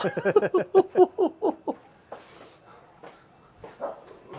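A small dog barks repeatedly in a quick run of yips, close by, then quieter whimpers and a few faint sounds follow.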